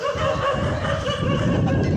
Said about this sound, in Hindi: यहाँ पर कुत्तों ने हल्ला गुल्ला मचा दिया है